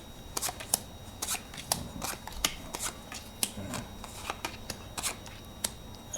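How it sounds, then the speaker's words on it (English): Playing cards are dealt out one by one onto a surface for a card trick, a run of crisp, close, quiet snaps and slides at an irregular rhythm. "you deal out, really doesn't matter what order, a bunch more cards, just like this."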